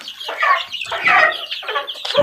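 Several chickens cluck near chicks in a coop, a run of close, busy clucks and short calls overlapping one another with no talk.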